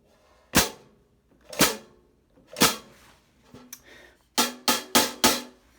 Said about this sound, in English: this is essentially the sound you get when stepping on the hi-hats